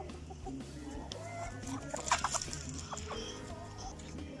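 A young rooster clucks in short, low bursts close by, with a few sharper calls near the middle and a faint background hum.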